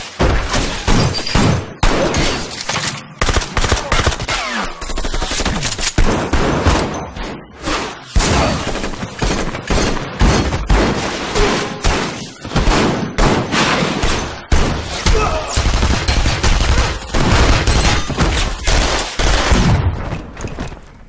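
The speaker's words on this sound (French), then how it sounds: "quasiment toutes les scènes d'action sont montées en rythme avec la musique, y compris les coups de feu" Gunfire from a Baby Driver action scene cut in rhythm to music: dense, loud volleys of rapid shots with brief gaps, continuing throughout.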